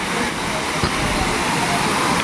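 A roadside monsoon waterfall near the Mandangad–Vesvi road in Konkan pours down in a loud, continuous broadband roar that holds even and unbroken throughout.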